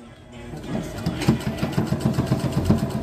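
A sewing machine starts up and runs with a rapid, rhythmic mechanical chatter, close by, while people talk around it.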